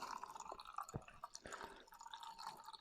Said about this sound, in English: I'm going to quickly show you how the beer pours.